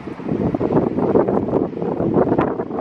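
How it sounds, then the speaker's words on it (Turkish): Gentle outdoor wind in a forest park near a carousel gusts steadily against the microphone, producing a continuous soft rushing buffet with no talking. "İnce ince esiyor."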